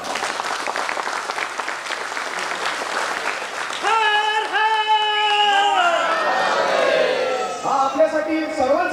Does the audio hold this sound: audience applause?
yes